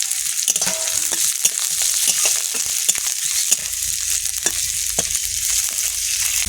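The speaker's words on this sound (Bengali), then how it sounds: "রসুন তারপর দিয়ে দেবো লঙ্কা লঙ্কাগুলো দিয়ে দেবো তেজপাতা দিয়ে দেবো" Garlic, chillies and bay leaves sizzle in a frying pan with hot oil, a steady bright crackle running throughout, broken by a few sharp clicks and scrapes of stirring.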